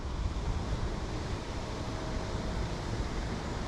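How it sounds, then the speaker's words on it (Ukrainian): Steady spring wind roars across open water at a pike fishing spot, a continuous broadband rush with low gusty rumble and no voices. "роздувся вітер, все як на зло"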